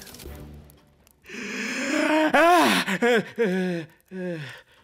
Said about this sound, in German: Ich fuhr schwer keuchend und nach Luft drängend hoch.